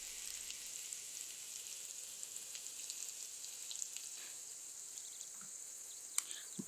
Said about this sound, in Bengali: আর পেঁয়াজগুলো একটু হালকা করে ভেজে নিব